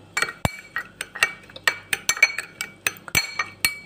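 Repeated light clinks of a metal spoon against a bowl while fish ball sauce with vinegar is stirred, about a dozen sharp taps in an uneven rhythm, close and clear with no talking.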